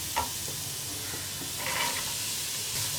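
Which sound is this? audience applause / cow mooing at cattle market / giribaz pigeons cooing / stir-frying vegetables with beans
stir-frying vegetables with beans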